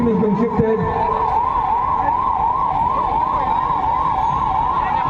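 An ambulance siren at a fire emergency drill wails loudly and steadily in a fast, regular up-and-down cycle, close by, over a rumbling engine and background noise.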